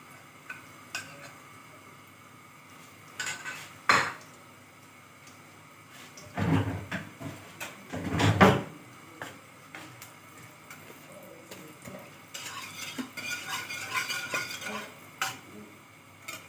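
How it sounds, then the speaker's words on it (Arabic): Blended flour sautéed in homemade ghee in a pot, stirred with a few loud scraping bursts against the metal and softer sizzling and clinks between them, close up and without speech. "نبقى ننزل بالسمنة عشان خاطر ايه، نشوح الدقيق كده تشويحة حلوة"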